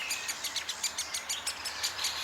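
A great spotted woodpecker in a forest gives a rapid series of sharp, faint, evenly spaced calls or taps, heard at a distance against a quiet woodland background.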